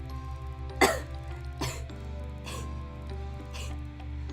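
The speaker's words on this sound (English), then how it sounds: "I'm going to be cutting out a lot of my coughs in this video" A person coughs four times, spaced about a second apart, close to the microphone over a steady low electronic hum, with no talking.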